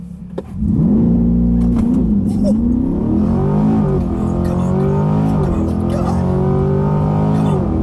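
A car, a C8 Corvette or a 2021 Toyota Supra, roars as it launches on a quarter-mile run, its engine loud and close, climbing through several gear shifts.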